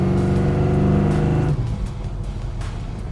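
A 1967 Chevrolet Camaro RS/SS restomod with a 383 engine and Holley fuel injection revs hard nearby, a loud rising engine drone that suddenly drops off midway into a lower, rougher rumble.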